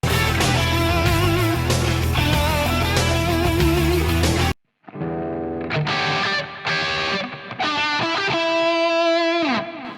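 Distorted electric guitar run through a Fractal FM3 with delay and reverb, playing a lead: a dense driven passage, a brief break, then sustained ringing notes and bends with echo trails, loud and upfront.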